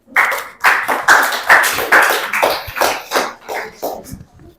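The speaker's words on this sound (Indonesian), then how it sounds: "Silakan berikan tepuk tangan dulu untuk teman kalian." A classroom group claps for classmates after a presentation, with a burst of sharp, close hand claps in uneven bursts that thin out and fade toward the end.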